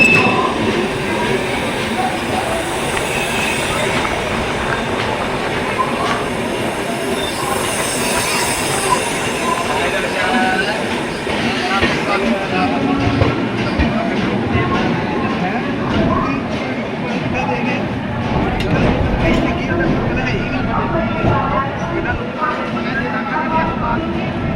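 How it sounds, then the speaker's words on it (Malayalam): Sarvodaya superfast express pulling out of Ludhiana Junction, a steady rumble of rolling wheels and rattling carriages with squealing and clatter, heard from inside the train with faint voices in the background. "ലുധിയാനയിൽ നിന്ന് ട്രെയിൻ എടുത്തു ലുധിയാന ജംഗ്ഷനിൽ നിന്ന്"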